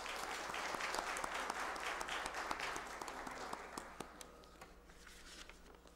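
Applause rises at a solemn ceremony of a chaplaincy faculty, a full round of clapping over a low steady hum, thinning to scattered claps as it tapers off.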